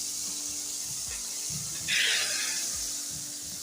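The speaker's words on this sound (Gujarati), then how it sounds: "ત્યાર પછી આપણે કઢીની અંદર વઘાર નાખી દઈશું" Hot vaghar tempering poured into Gujarati kadhi gives one short, loud sizzling hiss near the middle, rising out of a quiet kitchen background and fading within about a second.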